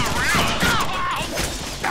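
Gunfire in the Deadpool action video game, a loud, busy burst of rapid shots with a character's voice talking over it.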